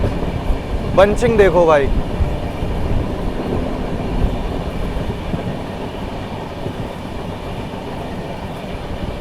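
Lucknow–New Delhi Tejas Express rolling past at an Indian railway line, a steady loud rumble and clatter of wheels on track, with a short horn blast early on and someone speaking over it.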